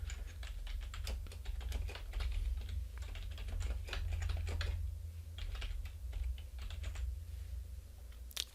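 A podcast review typed on a computer keyboard, quick irregular clicks of keys at close range running continuously over a low steady hum, with no talking.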